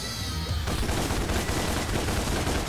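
Rapid gunfire in Devil May Cry fills the scene with a dense, loud stream of shots that starts abruptly after a brief quieter moment and continues without pause.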